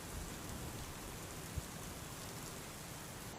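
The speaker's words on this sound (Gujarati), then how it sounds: "હાલ પણ વરસાદની સ્થિતિ યથાવત છે" Torrential rain in Junagadh district, Gujarat, falls in a continuous, even patter, soft and somewhat distant, with no voices.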